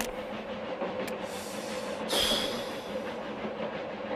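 Steady rumbling of a moving sea train with rattling and a brief hissing burst, heard from inside, no voices.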